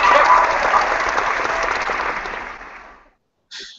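Applause effect triggered from a Google+ Hangout button, a loud burst of crowd clapping that fades away over about three seconds, followed by a brief short sound.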